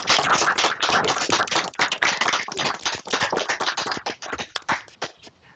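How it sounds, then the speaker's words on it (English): A small audience applauds for Scott at a virtual user-group meeting, brisk dense clapping that holds steady for several seconds before thinning out to scattered last claps. "I think a round of applause for Scott."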